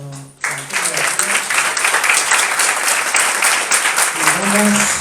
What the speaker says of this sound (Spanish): Un aplauso para Antonio García.